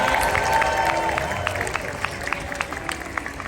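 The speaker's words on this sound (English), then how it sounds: "Give them a nice big cheer." An audience at a SeaWorld San Diego orca show claps and cheers, scattered sharp claps rising over a distant crowd murmur that gradually fades.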